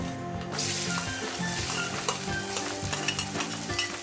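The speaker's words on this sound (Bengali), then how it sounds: "তেলটা গরম হয়ে গেছে এখন কুচনো আলুগুলো দিয়ে দেবো" Chopped potatoes frying in hot oil in a wok, a steady close sizzle broken by scraping stirs and the clink of a spatula against the pan, with no one talking.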